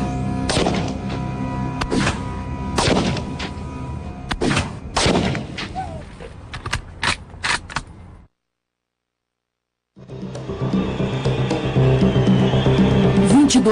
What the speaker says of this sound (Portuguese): enquanto Michael testa a Mannlicher Carcano em alguns alvos fixos